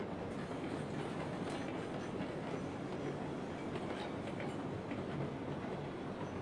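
A train rolls steadily along the track at full throttle in the Railroads Online game, a continuous rumbling clickety-clack with no pauses, fairly close and alone without talk.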